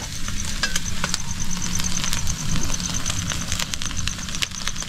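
Food sizzles and fries steadily in a pan over a low flame at a home family meal, a dense crackling hiss that holds close and loud throughout.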